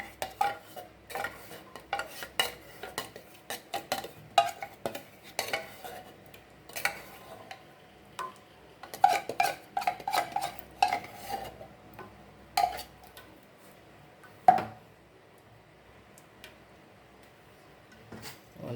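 A spoon stirs coconut punch in a pot, making soft, quiet clinks and scrapes against the metal at irregular intervals, with brief pauses between the strokes.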